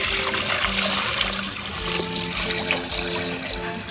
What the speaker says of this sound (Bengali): মাংস কাটা হয়ে গেছে, এবার এটাকে ভালো করে ধুয়ে নিচ্ছি।